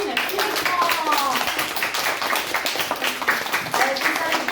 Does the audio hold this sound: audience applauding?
yes